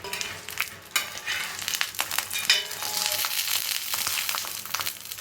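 Leaf-wrapped fish for Meen Polichathu fries in a pan, hissing and crackling steadily up close, with a few scraping knocks as the pieces are turned.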